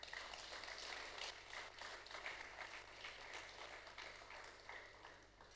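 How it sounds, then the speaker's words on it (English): An audience at the Ultimate Pitch Season X grand finale gives a round of applause, faint distant clapping that holds steady for several seconds and slowly tapers. "You all deserve a huge round of applause."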